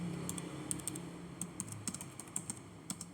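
Rapid keystrokes on a computer keyboard, typed in quick irregular bursts of clicks at close range with a faint hum underneath and no talking.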